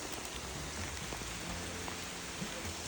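Heavy rain drums steadily on a camping tent during a downpour in Portugal, a dense, even patter close overhead with no voices.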